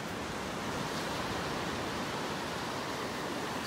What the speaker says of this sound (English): Still got some waves out here.